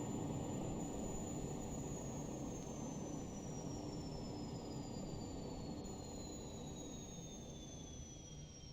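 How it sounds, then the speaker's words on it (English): An aircraft engine winds down in the Prepar3D flight simulator, a steady broadband roar with a high whine that slowly falls in pitch and fades slightly, with no talk over it. "And now we can shut down the engine."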